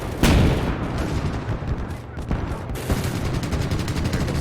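A tank's 10.5 cm gun fires shells in quick succession in the WWII game Gates of Hell, with loud, booming blasts over a dense rumble of battle noise.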